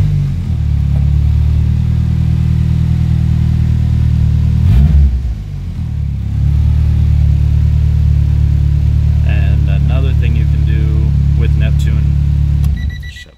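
A Honda car engine idles with a steady, loud low rumble close by, briefly dipping midway, while a voice talks over it.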